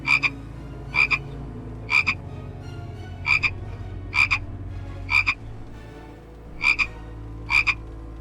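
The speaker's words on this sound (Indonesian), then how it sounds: "Suara kodok." A frog croaks in a regular rhythm, about eight loud, close, buzzy calls spaced roughly a second apart, over a continuous low background drone with no voices.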